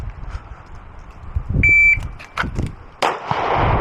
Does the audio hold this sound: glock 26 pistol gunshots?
yes